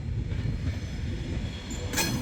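A train runs past at a railway heritage centre in Crewe, a steady low rumble of wheels and carriages with a faint squeal near the end, heard close and continuous with no talk.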